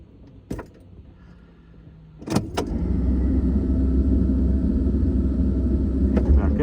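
A 1985 Corvette with a 700R4 transmission and a torque converter problem. A couple of sharp clicks come first, then the engine fires and settles into a loud, steady, close rumble.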